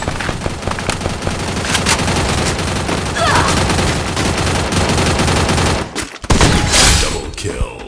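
Gunshots in the mobile shooter Free Fire, dense loud rapid fire running continuously for several seconds, then a brief drop and a final burst.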